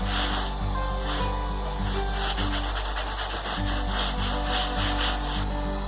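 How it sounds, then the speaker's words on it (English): A microfiber cloth wipes dust off a wooden workbench in steady back-and-forth rubbing strokes, close and continuous over a low steady hum, with no talking. "Get all the dust off of here with a microfiber cloth."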